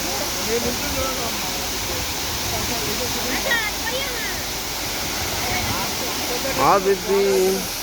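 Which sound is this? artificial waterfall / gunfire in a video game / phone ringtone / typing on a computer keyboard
artificial waterfall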